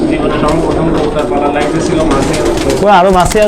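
Pakistani high-flying pigeons in a loft coo close by, their low soft calls mixed under steady nearby talking from people.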